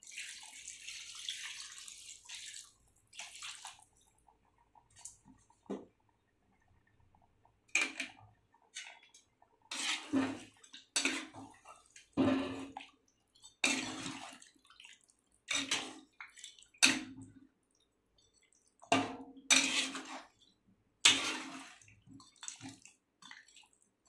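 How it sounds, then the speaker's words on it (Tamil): Water poured and splashed into a pan of chicken gravy in bursts, a series of short sloshing pours separated by quiet gaps, close and fairly loud. "தேவையான அளவு கொஞ்சம் தண்ணி சேர்த்துக்கலாம்."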